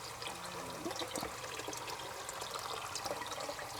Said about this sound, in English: we need to add a little bit more water on this one